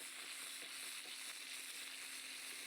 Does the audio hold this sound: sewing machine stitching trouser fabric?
no